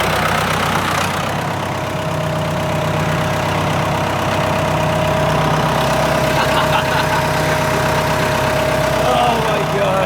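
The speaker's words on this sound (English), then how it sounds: "Jenna is driving the tractor, the bucket loader right now" A tractor bucket loader's engine idles in a steady, mid-pitched drone with a constant hum, running evenly near the listener for the whole stretch.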